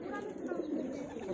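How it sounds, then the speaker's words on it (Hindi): Highflyer pigeons coo in a loft, a continuous low rolling murmur from several birds close by, with speech running over it. "और आप देख सकते हैं कितने सारे कबूतर है यहाँ पे।"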